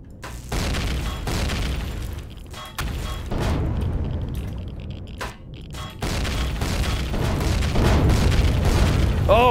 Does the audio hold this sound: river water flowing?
no